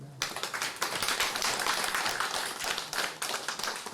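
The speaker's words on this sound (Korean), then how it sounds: "박수 한번 하겠습니다." Applause from a church congregation during a Sunday service, a dense, continuous clapping of many hands at close range that keeps steady throughout with no talk over it.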